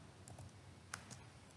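A few faint, soft keystrokes on a computer keyboard as a number is typed, light irregular taps close by in a quiet room.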